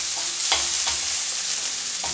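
Onion frying in a pan, a steady close sizzle with a few brief stirring scrapes, no voices.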